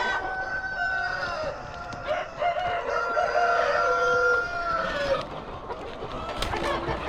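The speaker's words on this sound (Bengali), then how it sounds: "অনেক বড় বড় সাইজের মুরগি, অনেক বড় বড় সাইজের।" Large chickens, apparently a Pakistani breed, crow and cluck on a big rural poultry farm, several birds calling over one another in a steady, fairly close chorus with no talk.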